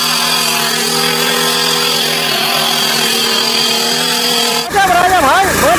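A tractor-mounted rotary tiller in second gear churns hard black soil, heard as a loud, steady harmonic engine drone that breaks off near the end as a voice starts talking.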